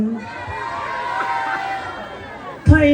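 Audience at a barangay beauty pageant's national costume segment cheering and shouting, a broad crowd roar swelling through the middle, then a sudden louder burst of noise at the end, with a host's voice over it.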